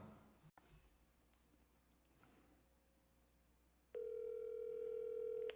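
A steady telephone dial tone sounds alone while a call to an interviewee is being connected, starting abruptly partway through after a quiet stretch with faint background noise and holding loud and unbroken to the end.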